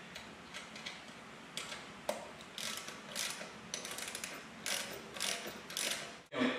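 A ratchet fitted with a 19 mm socket tightens the wheels on an off-road floor jack, giving quick bursts of close, crisp clicking in short irregular strokes over a quiet background.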